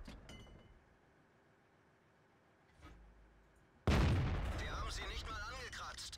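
A tank cannon firing in World of Tanks: a faint thump partway through, then one sharp, loud shot with a ringing metallic tail and clinking debris, after a quiet lead-in.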